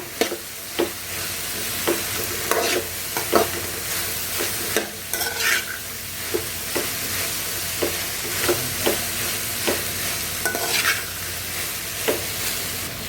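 Okra pieces fry in oil while a spoon stirs them through the pan, with a steady sizzle broken by regular scraping knocks every second or so, close up and without talk.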